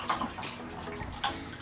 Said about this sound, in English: What I'm gonna do is dump what people call the pulp into this thing of water.